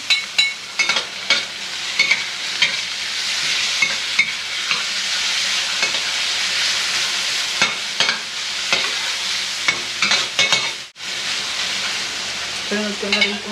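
Garlic and onion frying in a wok for batchoy, a steady close sizzle with repeated scraping and stirring strokes throughout, no talk over it.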